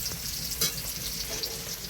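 Flat beans frying in a pan while a spatula stirs them, a continuous close hiss of sizzling oil with soft scraping and a brief louder crackle partway through.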